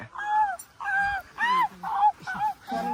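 A voice mimics the yelping whimper of an injured dog in a run of six short, wavering, nasal cries at close range, each breaking off before the next begins.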